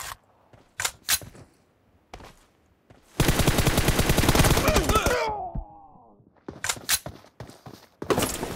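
Rapid gunfire in a multiplayer shooter game, a dense automatic burst of about two seconds with shell-like ringing trailing off, between scattered single shots and clicks, with players talking around it.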